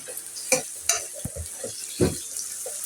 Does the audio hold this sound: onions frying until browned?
yes